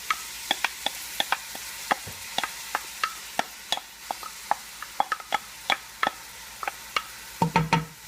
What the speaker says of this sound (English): add in the 2 large onion and chopped up 6 garlic cloves into your olive oil